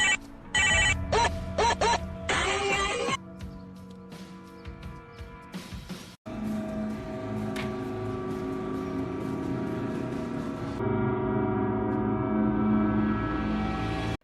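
Phone ringtone repeating in short bursts as a mother's call goes unanswered, then giving way to a steady humming, droning background for the rest of the scene.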